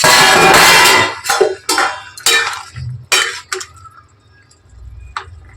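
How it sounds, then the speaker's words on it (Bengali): A lid is lifted off a cooking pot of bottle gourd boiling in a home kitchen. It makes a burst of hissing noise, then several sharp clinks and rattles of metal and glass, followed by quieter handling sounds. "এখন আমি ঢাকনাটা খুলে দেখে নিচ্ছি কিরকম"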